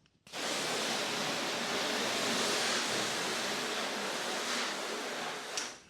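A pre-rinse sprayer fitted to a garden hose blasts water at full flow, bursting on abruptly into a loud, steady, hissing roar that holds for several seconds before easing off at the end.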